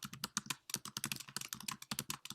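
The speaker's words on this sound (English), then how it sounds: "How did your keyboard get so loud? I never hear you typing." Rapid, loud computer keyboard typing heard up close on an open meeting call, with dense irregular key clicks and only brief gaps between bursts.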